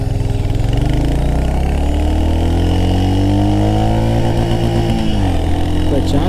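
A 2025 Royal Enfield Hunter 350 single-cylinder motorcycle engine roars loudly and close, its pitch climbing steadily as it accelerates through the gears, then dropping briefly near the end at a gear change before pulling again.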